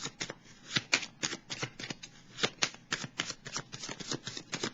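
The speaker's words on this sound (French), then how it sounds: "On va piger une carte pour déposer sur celle du pardon." Tarot cards being shuffled up close, a steady run of crisp riffling flicks and soft slaps repeating rhythmically for several seconds with no talk.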